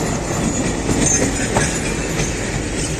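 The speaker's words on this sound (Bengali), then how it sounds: "মালগাড়ি যাচ্ছে এখন" A freight train rolls past close by, with a loud continuous rumble, rhythmic wheel clatter and occasional squeal, no voices.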